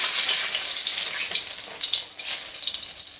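Three dried red chilies hit hot oil for a Bengali tempering, giving a loud, steady, close sizzle and crackle that fills the whole moment with no voices over it.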